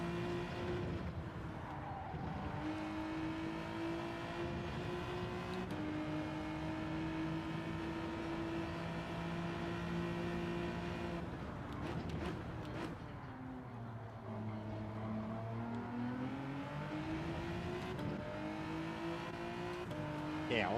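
Racing cars in Gran Turismo 7, including a Porsche, with a steady sustained engine drone whose pitch rises and falls through gear changes, loud and continuous throughout.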